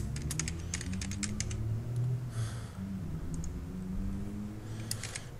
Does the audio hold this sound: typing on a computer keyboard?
yes